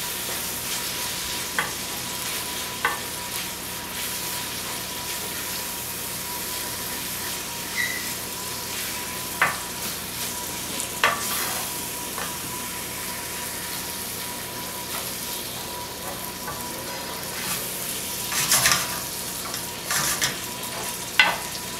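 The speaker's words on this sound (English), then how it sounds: "we'll stir that in just like we've done the other spices" Turmeric and other spices stirred into a hot frying pan, a steady broad sizzle throughout with scattered light scrapes and clicks of the spoon, close and fairly loud, no talking.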